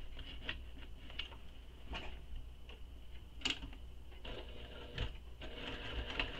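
A sewing machine top stitches a handbag with a light, uneven run of ticking and tapping, soft and close, with occasional sharper clicks and pauses between short bursts.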